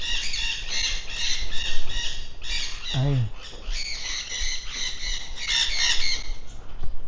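Parrots in a parrot garden squawking loudly and repeatedly at close range, harsh raucous calls in overlapping bursts, with a brief spoken word and another short voice partway through.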